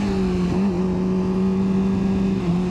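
A CF Moto Voom 500 motorcycle accelerates on the road with a steady, close engine drone that holds a fairly even pitch and dips briefly at moments, loud and without speech.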